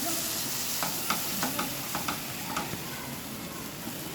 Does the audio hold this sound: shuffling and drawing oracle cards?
no